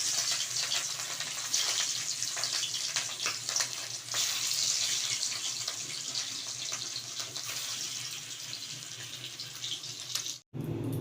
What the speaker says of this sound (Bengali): এবার মাছগুলো তেলের মধ্যে দিয়ে দেবো।